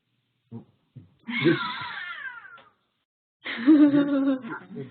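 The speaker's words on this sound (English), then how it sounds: "that was a cat outside my window" A cat meows outside a window in two drawn-out, wavering calls separated by a pause, preceded by a few faint taps, fairly close and clear with no talk over it.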